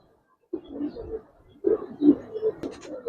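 Silver Giribaz pigeons coo in short, soft, throaty bursts, close by, after a brief silence at the start.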